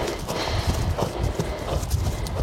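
Horse hooves clip-clopping on the ground during a training session, an irregular run of soft, close thuds over steady background hiss, with no talking.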